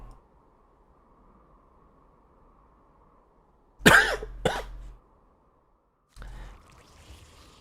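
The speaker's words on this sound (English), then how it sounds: "I'm still coughing" A single person coughs twice in close succession, sharp and near, then once more after a short quiet pause.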